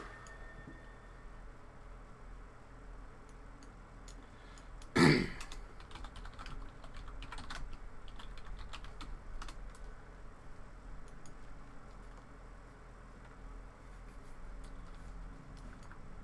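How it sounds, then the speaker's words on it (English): Soft, rapid clicks of typing on a computer keyboard continue through a quiet room, with one louder thump partway through. "I'm trying to communicate both via the typing and text, and I'm not very good at typing"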